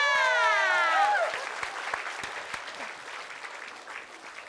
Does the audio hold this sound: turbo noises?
no